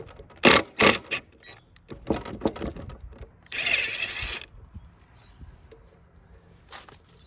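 An impact wrench works on the blade disc underneath a Masport lawn mower, firing several short, loud, rattling bursts and then one longer buzzing run, with quiet clinks and handling noises between them.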